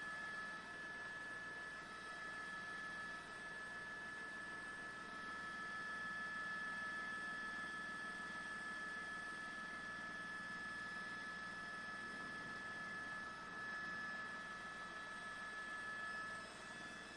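News helicopter hovering overhead during a Los Angeles police chase in South Gate, a steady droning rotor and engine hum with a constant whine, holding even and continuous with no talk.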